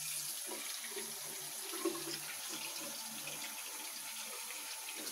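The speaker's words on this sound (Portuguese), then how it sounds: "Tens de passar água." Water runs steadily from a household tap during hand washing, a continuous close hiss and splash with no voices.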